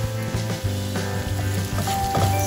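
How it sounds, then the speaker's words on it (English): Half a medium onion sautés over medium heat in a pan for a Goan black pomfret curry, giving a steady sizzle under a continuous low tonal hum that stays fairly constant throughout. "Saute on medium heat."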